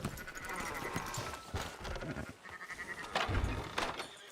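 Sheep bleating in the Red Dead Redemption 2 video game, several overlapping calls close by over a busy, continuous ambient bed of game noise, with no talk.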